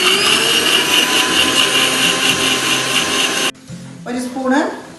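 A kitchen mixer grinder whirs loudly and steadily while blending tamarind water for pani puri, then cuts off abruptly, followed by a quieter stretch of faint rustling.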